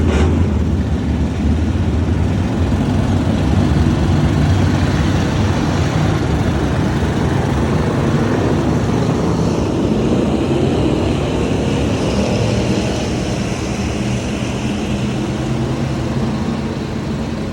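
Race cars circling a raceway track, a steady broadband engine roar heard from a distance that holds for the whole stretch, slowly fading slightly toward the end, with no talking.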